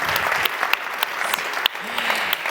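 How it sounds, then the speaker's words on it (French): An audience at a theatre season presentation claps for Julie, brisk applause from a modest crowd with a few sharp individual claps standing out, fairly close and continuous for a couple of seconds. "Vous pouvez l'applaudir"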